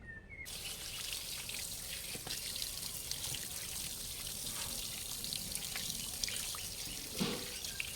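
Raw chicken pieces are washed under running water, a steady close splashing stream with scattered drips and small clinks in a sink.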